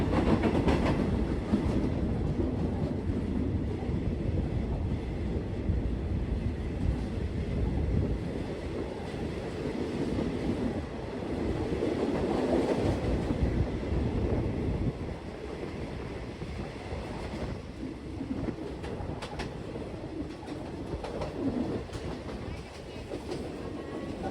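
Express train No. 51 on the northern line between Uttaradit and Den Chai runs steadily after leaving a 362-metre mountain tunnel built in 1910, a continuous loud rumble of wheels and carriage noise with wind buffeting throughout.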